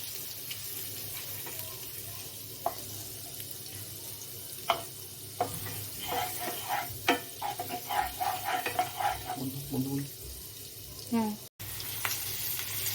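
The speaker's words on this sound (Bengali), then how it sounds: "বাটারটা একটু দিলাম কারণ যাতে পুরো প্যানটার মধ্যে বাটারটা ভালো করে মেল্ট হয়ে যায়" Butter melting and sizzling in a frying pan while a chicken cheese paratha is made, a steady soft crackle with scattered clinks and scraping of utensils, no talking.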